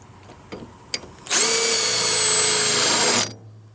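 A power drill bores out a spot weld on a 1973–1979 Ford F-150 cab: a few faint clicks, then a loud steady high whine for about two seconds that cuts off sharply.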